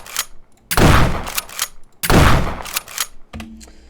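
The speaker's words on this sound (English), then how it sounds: "Alright, so we have the shot, and then the pump noise." An Ithaca pump-action shotgun in a zombie video game fires twice, each loud blast followed by the quick mechanical clack of the pump being worked, then a short low tone at the end.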